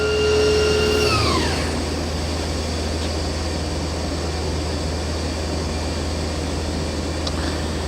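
A 2004 Mazak VCN410A machining center spindle spins at speed, with a high tonal whine that sweeps down at first and then settles into a steady hum and airy drone, with no talk.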